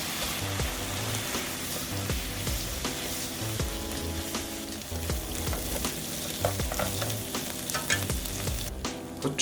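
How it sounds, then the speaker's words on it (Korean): Onion, cocktail shrimp and ham stir-fry in a hot oiled pan, with a loud, steady crackling sizzle and frequent scraping and clatter as the food is tossed and stirred. "달궈진 팬에 기름을 두르고 양파, 칵테일 새우, 그리고 햄을 넣고 양파의 색깔이 갈색빛이 나올 때까지 잘 볶아주세요."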